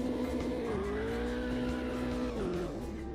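A race car in Automobilista 2 weaving to warm its tyres gives a steady, loud engine drone whose pitch sags and recovers twice as the car swerves, with faint tyre scrub and no talk over it.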